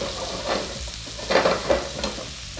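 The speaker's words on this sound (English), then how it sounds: "So we're going to let this continue to sear for maybe 3 or 4 more minutes." Steak searing in a hot pan after brining and sous vide cooking, a steady close sizzle with louder crackling bursts and spatters, no talking.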